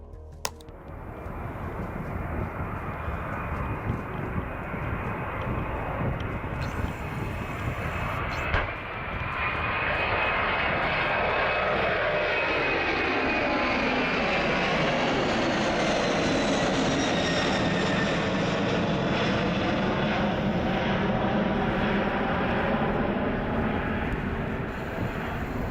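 An airplane's jet engines spooling up and roaring through takeoff, a loud sustained rumble that swells with a rising then falling whine as the aircraft passes close by, continuous throughout.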